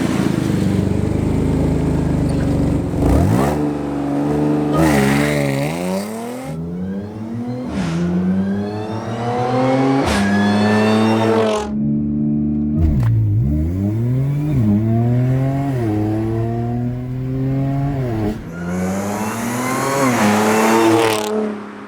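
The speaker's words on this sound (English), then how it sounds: "I wanted to do valves closed so we could hear that supercharger whine" A supercharged Audi S4 with the exhaust valves closed revs repeatedly, each loud blip rising and falling with a clear supercharger whine layered over the engine note, close and continuous across the whole run.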